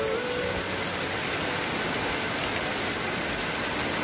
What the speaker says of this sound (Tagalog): Grabing lakas ang ulan.